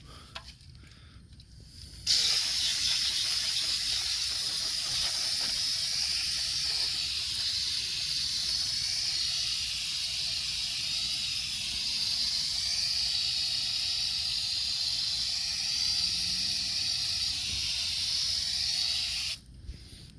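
Aerosol brake cleaner sprayed onto a grimy clutch slave cylinder during an oil-leak repair: a loud, steady, close hiss that starts abruptly, holds for about seventeen seconds and then cuts off.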